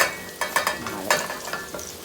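Chopped vegetables tipped into a pan of sambar base for a Tirunelveli-style South Indian sambar, then stirred, giving a few scraping, clattering strokes over a soft simmering sizzle, close and moderately quiet.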